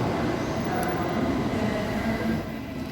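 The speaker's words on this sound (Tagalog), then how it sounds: "Shinkansen." A Shinkansen Nozomi bullet train rushes along the line from Hiroshima to Nagoya, a loud steady rumble and roar with rail noise that eases slightly at the end.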